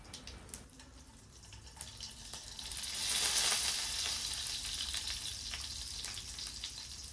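Stuffed brinjals drop into hot oil already seasoned with cumin and asafoetida, and a soft crackling sizzle swells partway through before settling into a steady hiss for bharli vangi.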